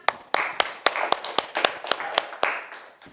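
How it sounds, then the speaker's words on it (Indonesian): A classroom of students claps in a loose, quick rhythm, a dozen or so distinct sharp claps over a soft wash of hands, close by and without talk. "Bagus, Ocha, tepuk tangan."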